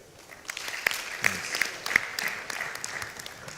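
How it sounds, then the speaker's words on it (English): A handful of people clap sparsely, with a few sharp, distinct claps standing out, and a single voice speaks briefly. "stand up, clap for them"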